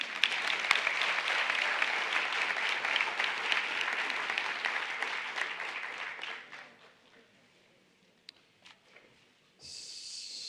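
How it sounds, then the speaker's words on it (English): A round of audience applause at a county schools annual education report event, loud and sustained for about six seconds before thinning out to a few scattered claps and a near-silent stretch. "Let's give another round of applause."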